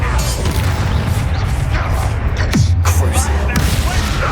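A Confringo blast spell explodes in Hogwarts Legacy, a sharp burst with a low booming tail amid ongoing combat noise and clattering effects, with a voice briefly heard.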